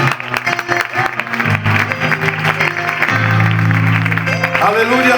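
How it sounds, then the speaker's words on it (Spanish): Congregation in a church clapping together during a Spanish-language service, a dense patter of hands running under loud voices and sustained musical or sung tones throughout. "Dale un fuerte aplauso en esta tarde."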